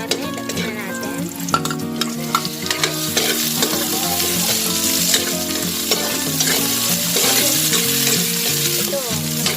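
Chicken balls and kikiam fry in a pan for miki guisado: a loud, dense, continuous sizzle with crackling spatters and occasional stirring, with tonal background sound running steadily beneath.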